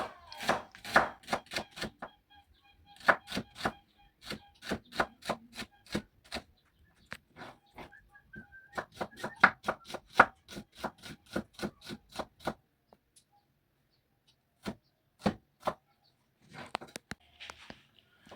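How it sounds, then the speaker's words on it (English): Onions are sliced on a cutting board with a knife in a steady run of sharp close chops, several short pauses breaking the rhythm before a few final isolated cuts. "So we're now going to slice our onions."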